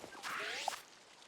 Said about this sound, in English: the map sound effects